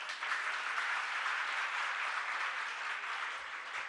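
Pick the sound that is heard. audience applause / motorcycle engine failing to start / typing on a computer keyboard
audience applause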